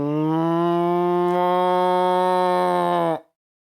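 A person imitates a cow, giving one long, loud, steady moo that holds for about three seconds and then cuts off abruptly into silence.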